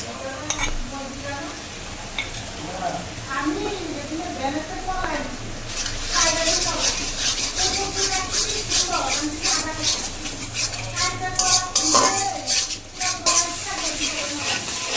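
Spice paste with salt and chili paste fries for a duck curry, a sizzling pan with frequent scraping and clinking stir strokes growing busier midway, while someone talks over it.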